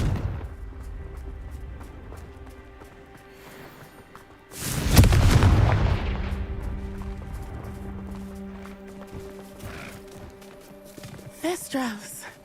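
A Confringo blasting spell in Hogwarts Legacy lands as one heavy, booming explosion midway, followed by a long rumbling decay over game music, with a voice speaking before it.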